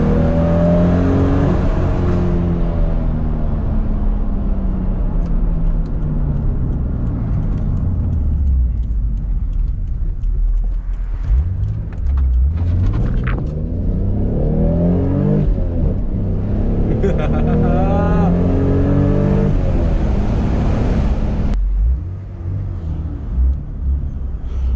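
A Toyota Supra engine pulls hard through second gear from inside the car, its loud roar climbing steadily in pitch, easing, then surging again before a sudden drop as the throttle lifts near the end.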